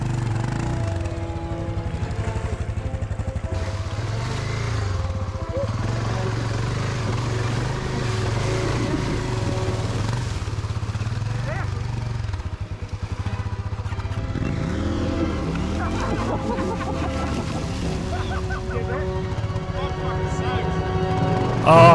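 Adventure motorcycle engines, including a BMW, drone steadily at close range while the bikes are pushed through a water crossing, with throttle rising and falling in a continuous, loud rumble from start to finish.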